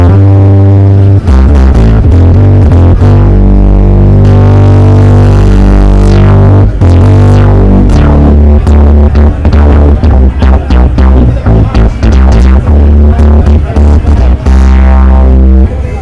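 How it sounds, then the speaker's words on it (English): An Arturia MicroFreak synthesizer plays a classic bass patch through its analog filter: a loud, continuous stream of deep, buzzy notes with rhythmic plucks and filter sweeps throughout. "I'm going to select a kind of a classic bass sound like this."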